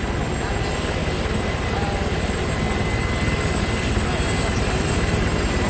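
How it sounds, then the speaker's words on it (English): Helicopters flying in a combat flight simulator game, a steady loud engine and rotor drone running unbroken through the clip with a faint high whine above it. "Hello, helicopters. We should have shot him down."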